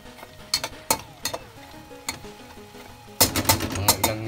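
Pinakbet vegetables simmering in coconut milk in a pot, a soft sizzle and bubbling punctuated by sharp clinks of a utensil against the pot, growing louder toward the end.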